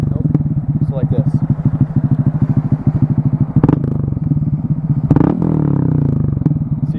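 A motorcycle engine revs and chugs as the clutch is let out during riding practice, with rapid pulsing firing beats, a couple of rising revs and clunks midway, loud and close.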